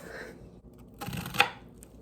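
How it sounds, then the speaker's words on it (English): A knife dicing an onion very small on a kitchen board while cooking: a few quick, close chopping knocks, loudest near the middle, set against quiet room sound. "I like to dice the onion up really small."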